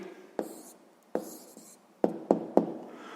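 A pen scratches and taps on paper, writing down the answer to a sixth-grade rectangle area problem in a few short, separate strokes in a quiet room.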